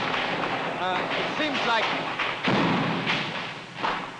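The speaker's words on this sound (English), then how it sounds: "This gunfire that you can hear is pretty close. It's coming in above our heads." Sharp bursts of nearby gunfire crack and thud several times at irregular intervals, coming in overhead at a Vietnam battlefield at night, while someone speaks over the noise.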